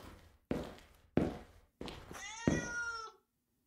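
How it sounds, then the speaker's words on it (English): A cat in the Japanese horror video game Akai Onna gives four loud meows in a row, each cut off cleanly, the last one longer and rising, with no talking. "Was that a fucking cat?"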